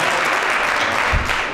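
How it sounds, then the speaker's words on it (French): Crowd at the Miss Ebony Swiss 2013 pageant applauds the jury being introduced: a full, continuous wash of clapping from many hands, steady and fairly loud throughout. "Est-ce qu'on peut les applaudir?"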